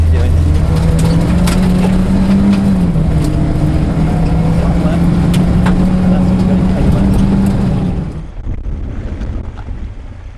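A Peugeot 205 rally car drives around a rally stage, its engine holding a steady droning note under heavy wind rush before the noise drops away abruptly near the end.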